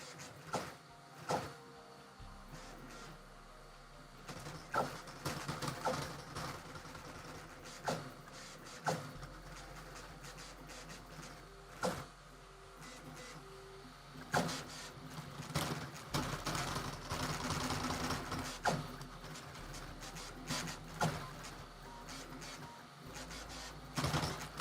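A newly built The100 3D printer runs a print job, its stepper motors whirring and buzzing in changing tones, punctuated by clicks and clunks of moving parts during final tests.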